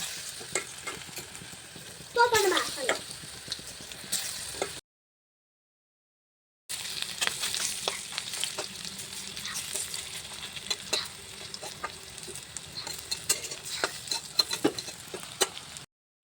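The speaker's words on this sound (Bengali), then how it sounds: "এখন আমি পেঁয়াজে পকোড়া ভাজবো" Onion pakoras frying in hot oil give a steady, close sizzle with stirring scrapes and crackles, broken by a brief silent gap partway through.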